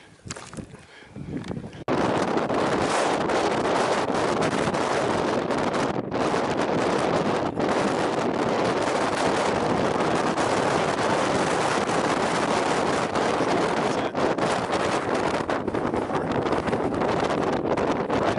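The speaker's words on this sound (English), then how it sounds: "You guys look like you're really in the wind." Strong wind buffets the microphone on a mountain hike near Estes Park and Hallett Peak, a loud, constant roaring rush after a brief quieter opening, with no voices.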